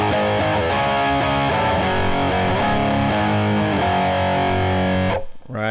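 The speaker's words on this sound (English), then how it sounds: "Then some distortion and the rest of the instruments are going to come in." Distorted electric guitar playing a chord progression, loud and saturated power chords with rhythmic muted chugs, ending abruptly.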